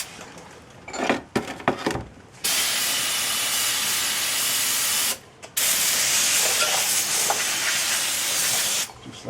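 Brake cleaner sprays hard onto a rear brake caliper bracket of a 2014 Ford Escape: a few short spurts, then two long, loud, close hissing blasts separated by a brief pause.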